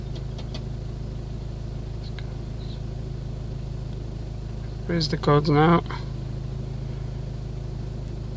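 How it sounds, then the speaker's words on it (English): A 2004 Renault Scenic 1.9 dCi diesel engine idling with a steady low hum throughout, and someone briefly speaking near the middle. "Gonna try to do it with the engine running"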